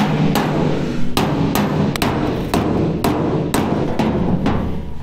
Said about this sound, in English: So I've got my dolly and my hammer.